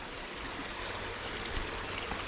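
Creek water runs over rocks at an RC event park, a constant, close, full-bodied rushing and babbling that holds steady without pause and has no voices over it.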